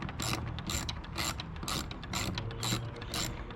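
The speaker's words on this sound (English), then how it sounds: "we're going to loosen up those two bolts right now" A ratchet wrench loosens 10 mm bolts on a Rough Country roof basket for a Jeep JK, giving about seven quick, steady bursts of close metallic clicking with no talk.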